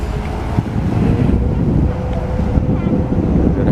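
A boat passing on open water near Venice, a loud continuous engine-and-wave rush mixed with heavy wind buffeting on the microphone, no talk.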